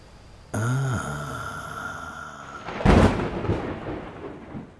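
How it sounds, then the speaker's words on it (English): A crash of thunder booms in suddenly after a held tonal drone, rumbling loudly and then rolling away over several seconds with no one speaking. "A crash of thunder shook the cabin."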